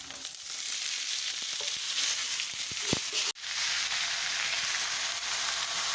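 Malabar spinach and green chillies frying in a hot pan give a loud, steady sizzle with a brief stirring clatter and a sharp knock partway through, no voices over it.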